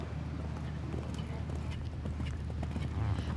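A horse canters in a dressage arena during an eventing dressage test at the FEI Asian Championships, with soft rhythmic hoofbeats under a commentator's voice.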